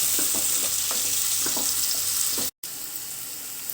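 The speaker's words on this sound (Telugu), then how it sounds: "తర్వాత టమోటా యాడ్ చేసుకొని బాగా దగ్గర మగ్గేటట్టు వేయించుకోవాలి" Chopped tomato fries in a pan for oats upma with a constant close sizzle and a string of light spoon taps and scrapes. The sound cuts out briefly, then the quieter sizzle continues.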